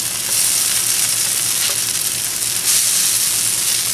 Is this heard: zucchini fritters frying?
yes